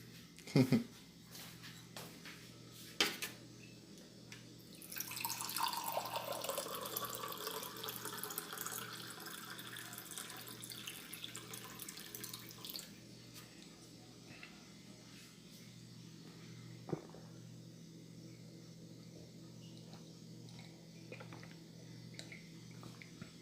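Water from a filter pours into a glass in a dim bedroom, a gentle trickling stream rising for several seconds amid soft clicks and knocks, then fading to quiet room noise.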